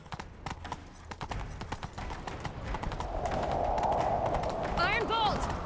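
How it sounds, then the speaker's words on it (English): A horse gallops with rapid, rhythmic hoofbeats during a chase in Witcher 3, under shouted dialogue and with a brief whinny near the end. "Grab a horse, we'll chase him down."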